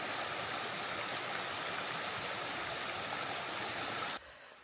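Mountain stream near Abriès on the Queyras trail, a steady broadband rush of flowing water close by that cuts off abruptly near the end, with no talk.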